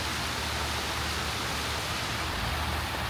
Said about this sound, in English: And the waterfall is at full swing.